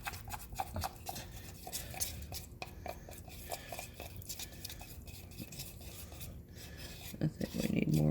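Melted chocolate being stirred into a thick fake cake mixture in a bowl, a steady close scraping and rubbing that runs continuously, with a louder clatter near the end.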